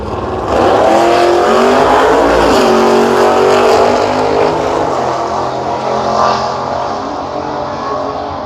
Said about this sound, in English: Gives it everything, but the Ford is already over the finish line there.